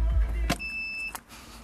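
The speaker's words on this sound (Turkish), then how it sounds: "Bagaj kapağını indirelim." The tailgate of a 2008 Nissan X-Trail being lowered, with a close mechanical thunk, a thin electronic beep tone, then another clunk as it settles, over a low engine hum.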